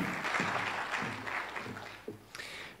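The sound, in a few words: audience applause for Jonathan Lett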